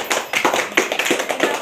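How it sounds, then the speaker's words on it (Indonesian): A small group of students clapping in a classroom, a quick run of sharp, close hand claps with an uneven rhythm, brief and lively with no talking. "Tepuk tangan."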